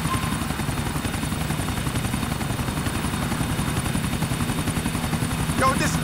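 Helicopter flying in the video game Grand Theft Auto IV, a loud, steady rotor thump with constant engine drone filling the whole stretch, close and unbroken.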